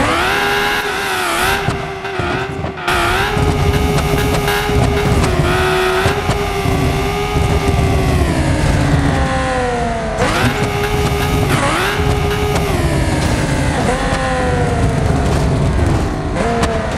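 A Lamborghini in the BeamNG driving game races toward a mega ramp, its engine revving loud and continuous. The pitch climbs and drops sharply with each gear change.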